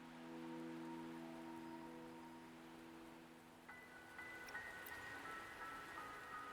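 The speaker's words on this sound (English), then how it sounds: "Don't worry, the rain won't last much longer." Rain falls steadily in the Wuthering Waves video game, a soft continuous hiss under sustained musical tones, with brighter chime-like notes entering partway through; no one speaks.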